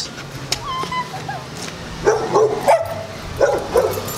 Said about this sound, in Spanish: ¡Ay, al perro, a ver si no nos quiere comer!